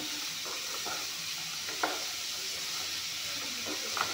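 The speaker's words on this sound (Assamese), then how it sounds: "তাৰপিছত গ্ৰীণ মটৰ আৰু বুটৰ দালিখিনি ধুনীয়াকৈ দি দিম। এইখিনি অলপমান ভাজি ল'ম।" Raw papaya, green peas and chana dal frying in a pan give a quiet continuous sizzle with soft, occasional stirring scrapes and taps, no talking.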